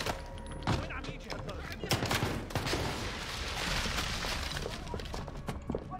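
Rapid bursts of gunfire in a Call of Duty campaign mission as enemies shoot out the lights, loud dense volleys with shattering glass mixed in and a player talking over the shots.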